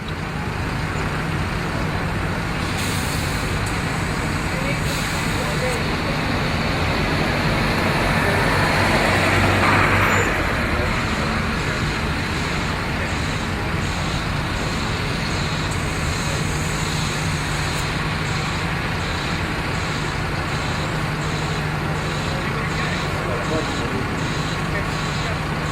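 Mercedes Citaro bus from a London Bromley garage on Route 227 manoeuvres at a bus show, a steady diesel drone and traffic-like rumble lasting throughout, with a voice talking over it and some intermittent beeping.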